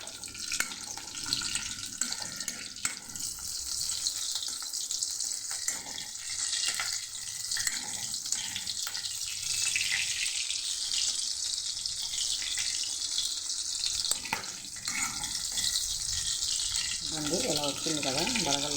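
Onion, tomato and green chili frying in a pan, giving a steady, loud sizzle throughout, with some clatter and a voice talking now and then over it.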